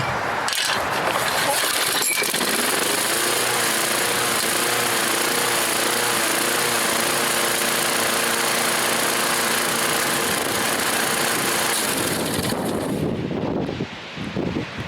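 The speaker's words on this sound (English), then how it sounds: "All right, she's running good, but that RPM's too high." A vintage Craftsman 21-inch lawn mower, made in USA, runs loud and steady at high RPM, its continuous engine drone filling the clip before cutting off near the end.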